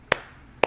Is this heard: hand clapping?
yes